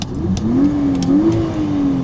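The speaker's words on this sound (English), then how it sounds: "do I regret getting a cold air intake on my car? No, it sounds absolutely beautiful." A car fitted with an aftermarket cold air intake revs up and down in a couple of smooth, loud swells of engine pitch, with a faint hiss from the intake.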